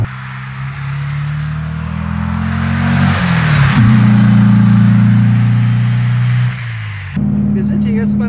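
A 1964 Porsche 356 C Coupé with a 100 hp engine climbs a steep hill. Its engine note is a steady, loud drone that rises in pitch and shifts near the middle, then drops briefly toward the end, heard from close range.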